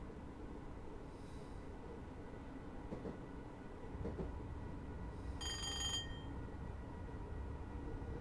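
Class 313 electric multiple unit running on the Welwyn Garden City to Kings Cross line in Train Simulator, a steady low rail rumble with a brief high metallic squeal partway through.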